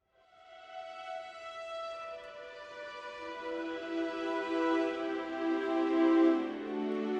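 Orchestral strings from a very quiet string library played at loud volume swell from soft to full, a sustained chord that grows louder and richer, alone without any voices.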